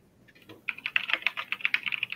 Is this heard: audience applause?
no